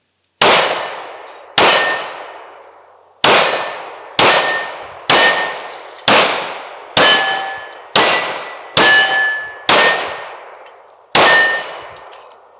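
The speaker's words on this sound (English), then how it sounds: "There's a steel target out there. It's actually two." Pistol rounds striking two steel targets a little over 20 yards away, ringing out as ten sharp metallic clangs, each followed by a fading ring, spaced about a second apart with no talking.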